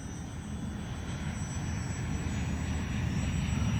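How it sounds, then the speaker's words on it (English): An X-Fly P-68 radio-controlled model plane flies over an open field, its small electric motor giving a steady, even drone with a thin high whine that swells slightly as it draws nearer, heard alone. "Yeah, just a nice little plane."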